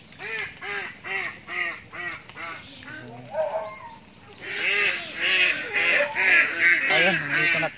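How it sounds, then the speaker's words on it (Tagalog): Ducks quacking at feeding time, a near, loud flock calling in rhythmic repeated bursts that swell into a busy chorus, with a voice briefly heard among them. "Ayun, nandito na tayo sa mga itik natin."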